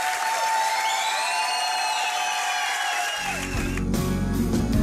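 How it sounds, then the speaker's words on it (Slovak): A TV studio audience breaks into closing applause as a sustained musical note fades out, and the dense, close clapping fills the final couple of seconds. "ten záverečný potlesk nie je pre mňa, ale pre týchto dvoch malých, skvelých hrdinov"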